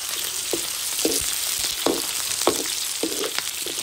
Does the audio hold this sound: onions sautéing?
yes